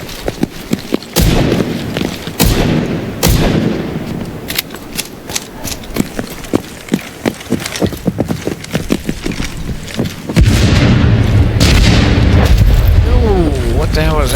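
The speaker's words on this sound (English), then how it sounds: "proximity charges just detonated in the rotunda" Proximity charges exploding in Division 2 video game combat: a dense run of booms and sharp blasts, loud and close, under a voice speaking, with a heavier rumbling stretch near the end.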